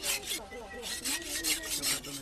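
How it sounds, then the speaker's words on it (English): A parang blade sharpened with a steady back-and-forth rasping stroke, several quick rhythmic passes close up and fairly loud. "sharpening the most important tool that any Nualu has, his parang"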